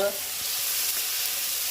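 Onion, tomato and chili fry with mustard seeds, cumin and asafoetida in a hot pan for a tempered roti dish, giving a continuous loud, close sizzle with a brief stir at the start.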